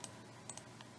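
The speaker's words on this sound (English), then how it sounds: "I know my typing is slow." A computer keyboard is typed on faintly with a few sparse key clicks against a low background hum.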